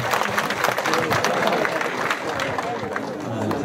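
An audience at a mountain-bike club gathering gives warm applause to welcome a newly introduced club president. The clapping runs steadily throughout, mixed with crowd chatter and a voice talking over it.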